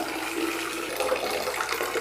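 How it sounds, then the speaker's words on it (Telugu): Hot water streams steadily from the tap of a Samraksha button classic model geyser, a continuous loud rushing flow heard up close with no talking. "హాట్ వాటర్ కంటిన్యూగా వస్తూ ఉంటుంది"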